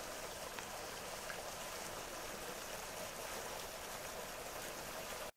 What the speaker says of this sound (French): Ça ruisselle gentiment.